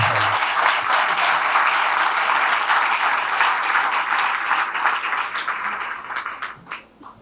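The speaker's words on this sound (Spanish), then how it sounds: "pido unas fuertes palmas esta vez para toda la mesa" Strong applause for the panel at a Spanish-language book presentation, a dense steady wash of many hands clapping that fades near the end.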